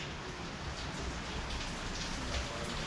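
Steady rain pours down on surfaces in a dense, continuous patter, close and even, with no voices.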